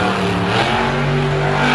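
A monster truck engine at a Monster Jam show in Denver revs and roars loudly with a strained, wavering pitch, a dense close-up mechanical howl with stadium noise mixed in.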